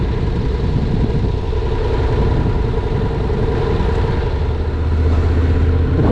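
Honda NC700X DCT motorcycle engine running in sport mode on dirt and gravel, a loud, steady low drone with wind noise and no pauses.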